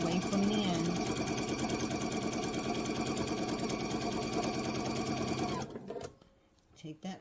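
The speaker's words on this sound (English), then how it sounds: "And I'm going to sew all the way across a 1/4 of an inch until I get to a 1/4 of an inch away from the end." A sewing machine runs steadily at close range, stitching fabric along a zipper with a dense, even mechanical whir, then stops abruptly near the end, leaving a brief faint rustle.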